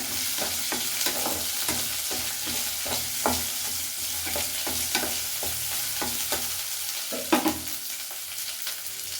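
Onion frying in a pan with curry leaves for a traditional lentil curry, a steady close sizzle broken by regular scraping stirs of a spoon, with no voices.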